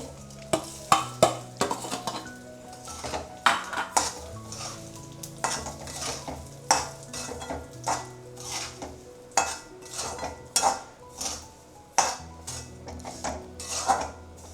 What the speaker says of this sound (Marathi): आता मी रवा टाकते त्याच्यामध्ये